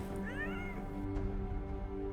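A cat meows a couple of times, near and fairly clear, over a steady low hum of background game music during a livestream of Beyond Good and Evil HD.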